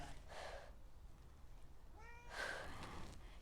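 A house cat meows twice, a short call followed by a longer rising-and-falling meow, close and clear over faint room noise.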